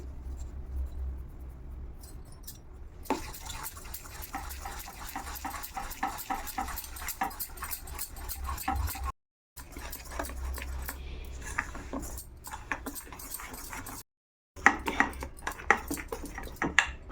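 A spoon works mango paste into semolina (rava) in a bowl, making soft repeated scraping and patting scrapes with light clinks against the bowl, close up, broken by two brief silent cuts.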